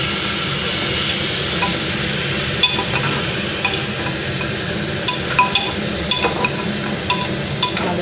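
Soaked daliya (cracked wheat) and dal are stirred in a hot pan. A soft sizzle runs throughout, with scraping strokes and light clinks of the spoon against the pan, close and fairly loud, and no talking.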